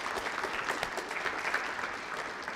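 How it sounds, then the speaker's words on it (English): A crowd at a youth football club senior night gives a warm round of applause for the parents, dense steady clapping that stays fairly loud throughout the short stretch. "giving the parents a nice round of applause"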